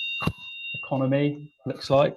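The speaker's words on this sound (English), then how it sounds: "You can probably hear a fire alarm going off." A fire alarm sounds as a steady high-pitched tone in the background, faint and continuous beneath a person speaking.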